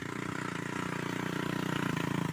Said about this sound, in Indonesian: Inilah suara motor petani yang mana saat ini